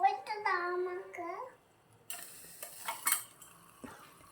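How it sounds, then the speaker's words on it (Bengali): A lid lifts off a miniature kitchen pot, giving a few faint clinks and light metallic scrapes after a voice speaks, with soft sizzling underneath. "আমি ঢাকনাটা খুলে দিচ্ছি"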